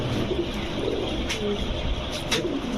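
A male giribaz high-flyer pigeon gives soft, low coos, fairly faint against a busy background with distant traffic.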